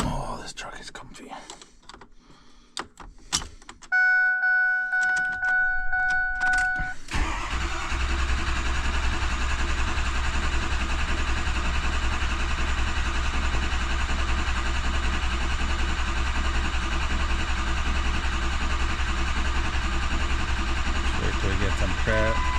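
A Ford 6.0 diesel truck engine cranks over with a short starter whine, then catches and settles into a loud, steady diesel idle that runs on unbroken, with some clicks and handling noises before the start.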